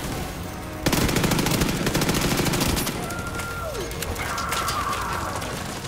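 An automated turret in The Division 2 unleashes sustained rapid machine-gun fire, a loud continuous stream of shots that thins into scattered bursts and distant pops amid game ambience.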